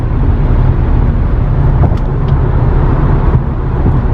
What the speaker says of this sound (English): Lots of traffic there on the road